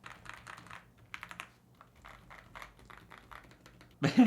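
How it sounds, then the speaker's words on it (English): Close, crisp typing on an aluminum mechanical keyboard (LEOBOG Hi75) in quick bursts of clacky keystrokes with short pauses, ending in a louder clatter. "What do you say about those typing sound, man?"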